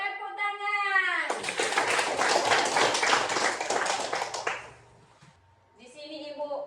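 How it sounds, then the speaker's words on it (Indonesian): Third-grade schoolchildren in a classroom break into a burst of quick, loud clapping for about three seconds, framed by an adult voice speaking before and after. "Bagus, tepuk tangan."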